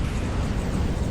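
An enemy warship's cannon fire striking the player's vessel in From the Depths: a loud, continuous booming roar with heavy low-end rumble, sustained without a break for about a second.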